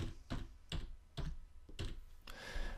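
Keys tapped on a computer keyboard while entering a ticker symbol in market analysis software: about five separated bursts of clicks, moderately loud and close, with no talking.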